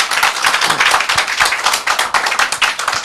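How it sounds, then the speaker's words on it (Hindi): A seated audience at a religious gathering claps together, a loud, continuous burst of many hands with an uneven pulsing rhythm that lasts about three seconds. "जो यहाँ पे बैठे हैं एक बार प्रभु के लिए ताली बजा देंगे"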